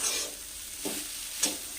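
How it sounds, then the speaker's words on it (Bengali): Potatoes sizzle in oil in a pan while being stirred, a steady close fizz with two soft scraping stirs midway and near the end, no voices. "এ দেখো আলুটা ভাজা আমার হয়ে গেছে"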